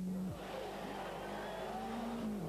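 A rally car at the 1993 24 Hours of Ypres takes the famous jump, its engine note dropping and then rising again as it lands and pulls away, heard at a distance and fairly quiet.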